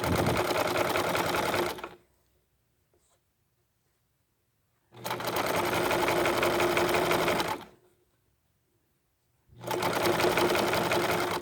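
Sewing machine stitching sari silk ribbon and rope into a rope bowl, three loud, close bursts of rapid motor-driven stitching, each a few seconds long, separated by silent pauses.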